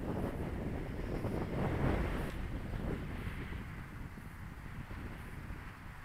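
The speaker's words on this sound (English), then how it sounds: "And a wind coming in all of a sudden, that changes things." Wind gusting over a model airplane flying field, a low rumbling buffet against the microphone that peaks briefly then settles into a softer steady rush, no voices.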